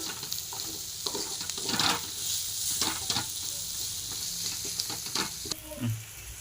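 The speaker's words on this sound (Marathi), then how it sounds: "ह्याला तेल सुटेपर्यंत परतून घ्यायचं" Tomato masala fries in oil in a pan for a dumplings-in-gourd curry, giving a steady close sizzle broken by repeated scraping stirs of a spoon, with no talk over it.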